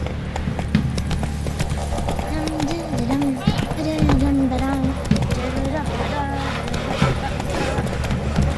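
Geralt's horse galloping in The Witcher 3, a steady clip-clop of hooves running under continuous game music and ambience, with a voice calling out near the start.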